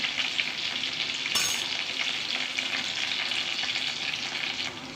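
Crushed garlic frying in a pan for a breakfast dish, a steady, bright sizzle with stirring scrapes throughout and one sharp clatter early on, close and without any talk.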